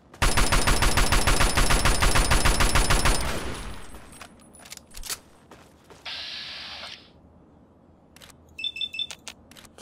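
Rapid automatic gunfire in Fallout 3, a loud sustained burst of close shots for about three seconds, then a few scattered single cracks and electronic beeps in a quieter stretch.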